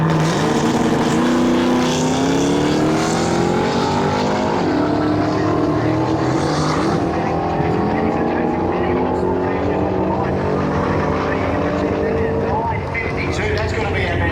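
A loud drag racing car engine, running on a radial tyre at a street machine drag event, roars and revs with shifting pitch, sustained and close, not building boost, with a voice talking faintly over it.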